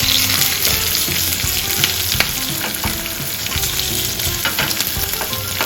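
Green chillies and julienned ginger sizzle and crackle steadily in hot oil while being stirred for Amritsari chole, a constant close frying hiss with scattered pops and clinks.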